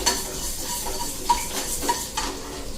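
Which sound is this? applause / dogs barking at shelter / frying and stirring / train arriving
frying and stirring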